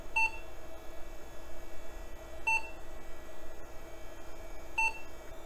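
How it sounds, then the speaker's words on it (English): A vintage Baby AT tower computer booting from a DOS disk emits a slow repeating beep, three evenly spaced short tones over a steady fan hum. "Got some slow beeping."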